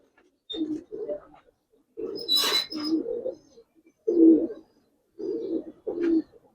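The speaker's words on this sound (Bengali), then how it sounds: "এগুলো রোড মাস্টার কবুতর ভাই।" Road Master pigeons coo close by in about six short, throaty bursts separated by brief pauses, with no talking over them.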